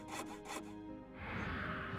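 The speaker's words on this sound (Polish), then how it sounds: "Piła do drewna. Jej, mogę sobie przeciąć kawał dechy" A wood saw cuts a plank in the Enigmatis 2 video game with a few quick, rasping back-and-forth strokes, then a softer rubbing scrape, faint and heard alone.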